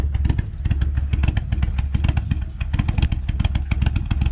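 Mitsubishi Eclipse engine running rich on a new ECU with the idle air control valve disconnected, a loud, close, rough idle with rapid uneven pulsing and lumpy clatter, no talking.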